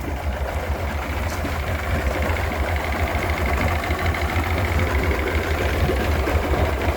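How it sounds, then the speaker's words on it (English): A Mercury 175hp EFI V6 oil-injected two-stroke outboard engine, suffering electrical issues, runs at a steady loud idle with a throbbing low rumble and a faint mechanical rattle. "Running this Mercury 175 EFI oil-injected two-stroke."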